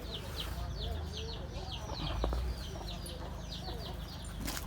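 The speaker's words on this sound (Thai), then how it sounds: "ฟังเสียงไก่นะครับมีไก่อยู่ตรงนู้น" Chickens clucking and chirping repeatedly in the background, mixed with other birdsong and a low outdoor rumble.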